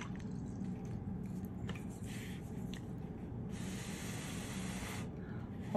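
Breath blown onto wet watercolor paint on a tropical philodendron painting makes a steady, close, airy hiss that swells and eases over several seconds, with no talking.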